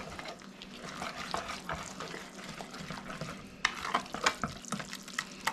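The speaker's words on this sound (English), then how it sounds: "And then we whisk it all together." Pumpkin pie batter made with sweetened condensed milk, whisked in a bowl, giving a steady soft swishing with sharper clinking strokes toward the end, close by, no voices.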